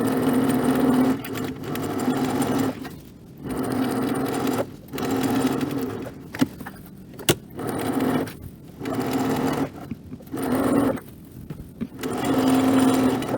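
A sewing machine stitches along the side of an apron pocket toward its corner, running in steady whirring bursts separated by short pauses, close and moderately loud with no talking.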